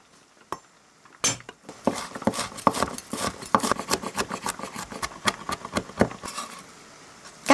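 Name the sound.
crushing and mincing shallots and garlic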